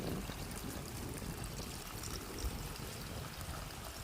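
Warm water pours steadily and faintly into a pan of potato curry, a continuous trickling gush with no talking.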